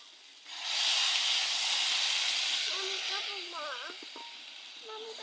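Water poured onto hot fried masoor lentils in a pan bursts into a loud steam hiss that slowly fades, then a voice speaks as the sizzle dies down.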